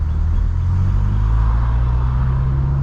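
A BMW M6 engine and exhaust rumbling steadily inside a tunnel, a loud, low, constant drone with reverberant road noise and no distinct revving.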